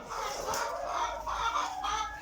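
Hens cluck and squawk in short bursts during egg collecting, fairly close, several birds overlapping with a few sharper calls standing out.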